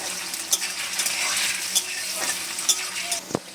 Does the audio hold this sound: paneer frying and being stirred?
yes